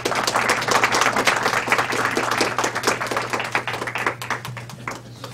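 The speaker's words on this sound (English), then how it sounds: "please give a round of applause and a good welcome to Leonard Weinglass" An audience gives a warm round of applause to welcome speaker Leonard Weinglass, dense clapping from many hands, loud and close at first, then gradually thinning and fading toward the end.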